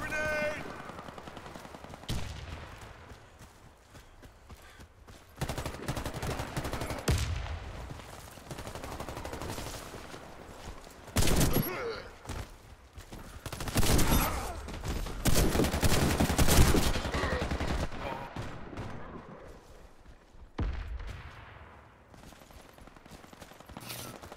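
Video game gunfire crackles in repeated bursts, from single shots to rapid automatic volleys, loud and close with quieter gaps between, while a voice talks in places.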